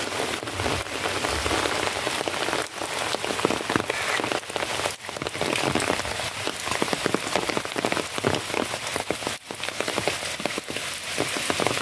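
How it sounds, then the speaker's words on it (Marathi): Heavy rain pours steadily over a village, a dense, loud, continuous hiss of drops striking surfaces nearby, with no pauses and no voices. "आज गावातनं लयच पाऊस लागतात, मस्त जोर धरला ना पावसानं"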